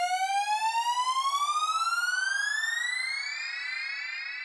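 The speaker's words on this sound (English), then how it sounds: "a riser that I think I recorded on my Behringer Pro 1." A synth riser recorded on a Behringer Pro 1 sweeps steadily upward in pitch as a bright, buzzy tone rich in harmonics, with a fast pulsing wobble at the start that smooths out as it climbs. It plays alone and close.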